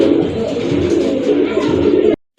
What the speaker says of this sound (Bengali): খুবই সুন্দর এক জোড়া চিলা কবুতর